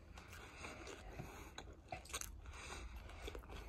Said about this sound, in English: Nice crunch on the pastry.